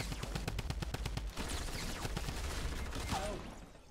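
Rapid automatic gunfire from the video game Fortnite rattles in dense bursts of close, sharp shots, then thins into scattered fire and fades near the end.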